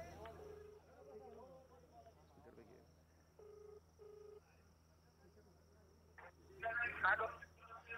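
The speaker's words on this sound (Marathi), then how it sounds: "त्यांना मी फोन करतोय" A telephone ringback tone repeats in short paired beeps on an outgoing call, faint under a steady hum and nearby voices.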